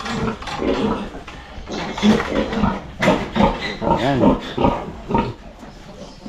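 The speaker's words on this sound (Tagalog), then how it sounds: "Yung mga baboy natin dito mga kaprobinsya" Pigs on a provincial farm grunt and squeal in repeated close, loud bursts, mixed with people talking nearby.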